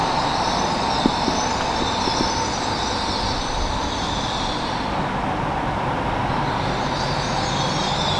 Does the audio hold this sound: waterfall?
no